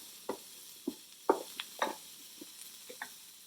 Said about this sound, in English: So once this cauliflower is sauteed thoroughly